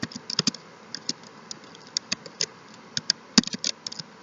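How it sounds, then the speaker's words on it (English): Typing on a computer keyboard while entering HTML code, with irregular bursts of sharp, close key clicks and a few louder strikes, alone with no talking. "I'm just typing down what I'm seeing in the textbook."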